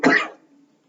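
One short, close cough from a person with a cold and fever, a sharp burst that fades into a brief throaty tail and then quiet.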